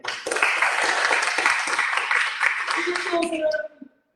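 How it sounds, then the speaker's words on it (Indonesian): A church congregation at GKSI Glory To Glories in Batam claps during a worship service, dense applause with some voices mixed in, ending abruptly with a brief sustained tone as it fades out. "Berikan tepuk tangan."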